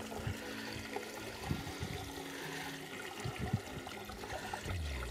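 Water pumped off a swimming pool cover by a small solar-powered pump flows out in a steady, quiet trickle and splash, continuous and close, with a few soft gurgles and no talking.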